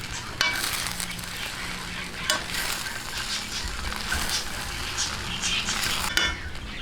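Spatula stirring beaten egg into pansit tinapa in a hot frying pan, steady sizzling with scraping and clinks of utensil against the pan, close and continuous.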